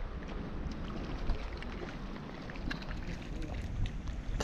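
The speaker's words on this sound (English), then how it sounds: "This wind is horrendous," Strong wind gusting across a mountain lake at about 10,000 feet in Colorado's Sangre de Cristo Mountains, a steady broadband roar with microphone buffeting, loud and continuous throughout.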